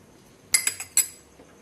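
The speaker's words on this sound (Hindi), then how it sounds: "थोड़ा चला देते हैं।" A spoon stirs tea with tulsi boiling in a pot on a gas stove, making four quick metallic clinks against the side at close range, then quiet.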